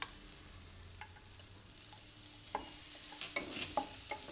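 Garlic sizzles in hot melted butter with a soft, steady hiss, and a few light clicks and scrapes from stirring grow louder toward the end.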